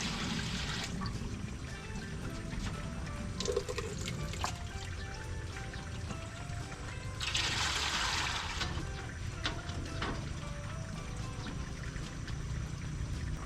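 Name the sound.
pouring water into pot for sapin-sapin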